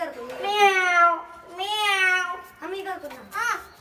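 A child imitates a cat's meow at home, producing four drawn-out, wavering mewing calls in close succession, clear and fairly loud with short pauses between.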